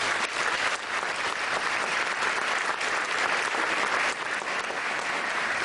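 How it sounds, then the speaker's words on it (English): Gala audience applause fills the room with dense, steady clapping from a large crowd, loud and continuous throughout with slight swells, no voices standing out above it. "Please give yourself a round of applause for that."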